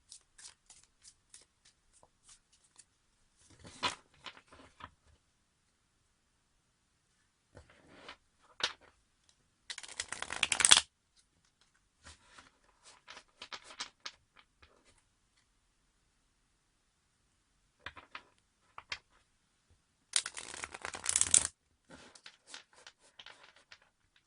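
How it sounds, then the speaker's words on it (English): A deck of tarot cards being shuffled in several separate bursts, quick riffles and ruffling slides close to the microphone, set apart by quiet pauses and light taps. "Let's give it another shuffle."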